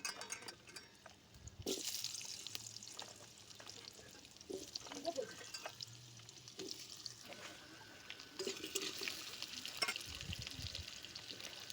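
Long-cut potatoes frying in oil in a pan, a soft continuous sizzle with scattered stirring clatter, faint and close, with quiet talk at times.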